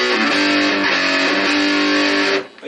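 An electric guitar plays through the distortion channel of an Acoustic G20 Lead Series amp with mid shift engaged, a loud sustained chord that rings fairly clean for distortion for about two seconds, then cuts off.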